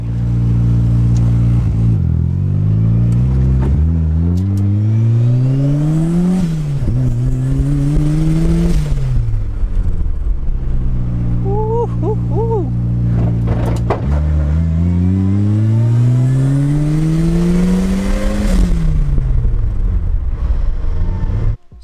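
Turbocharged Mazda Miata engine with a custom downpipe and eBay T3/T4 turbo, revving repeatedly in a cold garage: loud, close rises and falls in pitch over a steady idle, with no talking.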